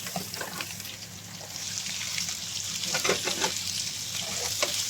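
Garlic, ginger, green chillies and sliced onions fry in oil in a pan, a close continuous sizzle with crackles and stirring scrapes building slightly, no talking.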